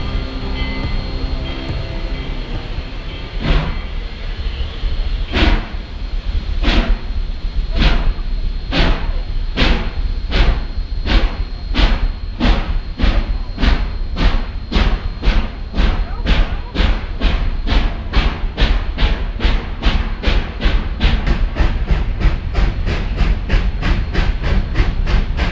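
A Georgetown Loop Railroad train in Colorado rumbles along with rhythmic clacking thumps that steadily quicken as it gathers speed, a continuous heavy rolling noise throughout.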